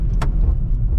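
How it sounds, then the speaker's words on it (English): A 2024 Kia Forte LX, a base-trim 147-horsepower compact car, makes an emergency brake stop, heard as a loud, steady road and tire rumble with a brief sharp click near the start. "We'll do an emergency brake test on these base level brakes."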